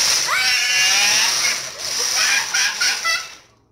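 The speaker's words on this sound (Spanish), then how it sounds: "Lo que vamos a hacer aquí es batir la leche crema que tenemos" An electric mixer whips cream for homemade chocolate ice cream, a loud high whirring buzz that rises and dips for a few seconds before cutting off.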